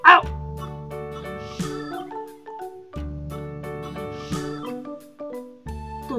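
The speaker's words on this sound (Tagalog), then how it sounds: "Tunog ng aso!" Short cartoon-style dog barks ring out over a bouncy, tuneful musical backing, recurring in a steady, repeating pattern.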